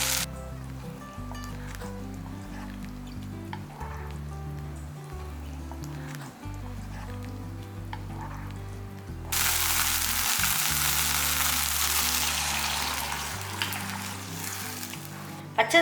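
Ground spice paste for Tamil mor kuzhambu (buttermilk curry) sizzles and fries as it is poured into a hot pan, the hiss suddenly growing louder and more intense partway through, over a low background hum.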